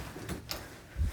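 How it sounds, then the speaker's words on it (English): A door being opened in a small room, a brief sliding scrape followed by a soft low thud at the end, close and fairly quiet. "I'm going to open this door"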